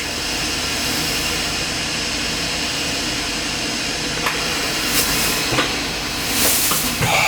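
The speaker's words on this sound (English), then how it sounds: "Do a tool change." A Hurco vertical machining center with a 24-position automatic tool changer and CAT 40 tooling runs through a tool change, giving a steady loud mechanical hiss and whir with a few sharp clunks and releases near the end.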